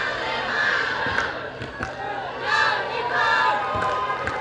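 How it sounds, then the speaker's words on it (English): Japanese fans in a crowd at an ultimate frisbee championship cheer and chant in waves, steady roar punctuated by a few louder bursts and occasional thumps. "You can hear some Japanese cheers in the crowd too"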